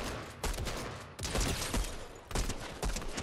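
Gunfire in Fortnite: quick bursts of rapid shots in several clusters, loud and close, each burst cutting off sharply before the next volley, with no talking.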